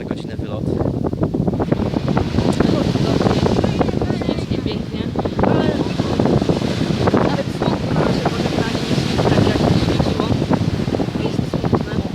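Ocean waves and wind on a Cape Verde shore make a steady, loud roar of surf and gusting air that holds without break throughout.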